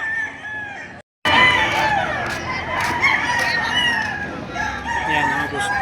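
Chickens and roosters at a crowded poultry market, crowing loudly from several birds at once over clucking and a busy murmur of people.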